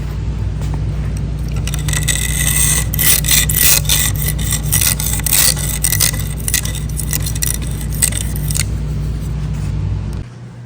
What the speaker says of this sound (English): I cleaned the rust off of this side